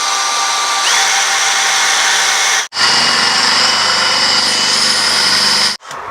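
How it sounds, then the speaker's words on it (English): A power drill whines steadily as it bores into a cast iron pulley on a Cosworth engine, running loud and continuous in two long bursts separated by brief stops. "So let's drill a hole and see what difference it makes."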